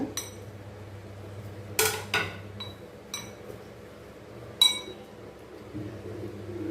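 A spoon mixing tempering for kurma in a metal pan, several sharp clinks and scrapes of utensil on metal, spaced irregularly over a low background hum.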